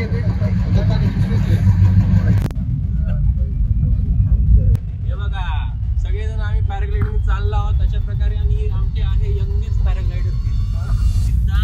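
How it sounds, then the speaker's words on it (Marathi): A vehicle pulls up to carry paragliders up to the base point at Kamshet, its engine a steady low rumble that continues under speech and background voices throughout. "अशी गाडी येते."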